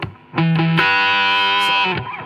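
An electric guitar runs through the new DOD Gonkulator ring modulator pedal on a clean tone, giving one loud sustained chord with a metallic, distorted buzz, close and lasting about two seconds.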